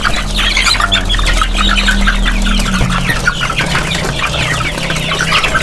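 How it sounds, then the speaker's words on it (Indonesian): A flock of two-month-old chickens clucks and squawks busily up close, eating black soldier fly maggots with rapid pecking and scratching sounds throughout, against a low mechanical hum. "ayamnya begitu lahap memakan maggot BSF yang saya berikan"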